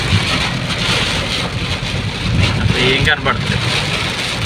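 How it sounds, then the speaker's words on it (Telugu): Very heavy rain falls in Tanuku town centre, a dense, loud, continuous roar with wind-like buffeting close to the microphone, while someone speaks briefly over it. "మామూలుగా లేదు వర్షం ఫ్రెండ్స్. అది చాలా విపరీతమైన వర్షం."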